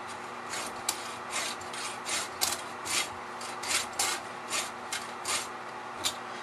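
A hand file sharpens a chainsaw chain in a series of rhythmic rasping strokes, roughly a dozen close scraping pulls at an even pace, with no talking.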